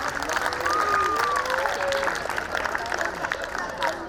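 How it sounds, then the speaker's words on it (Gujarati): Clapping from the audience at a primary school Republic Day prize ceremony, steady and moderately loud across the hall, with a whistling tone sliding over it early on and faint crowd murmur beneath. "આપણે તાળીઓથી એમને વધારશું."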